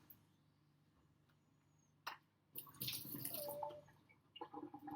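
Water poured and splashing out of a hot water bottle beside a bird's cage, a few short quiet splashes and trickles after a near-silent start, with a brief drip-like tone.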